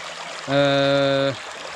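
Steady broadband rush of river water where gold panning is under way runs throughout, with a loud, sustained harmonic tone rising over it for nearly a second in the middle.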